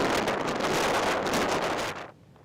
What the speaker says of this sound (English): Wow, you can just hear the wind there.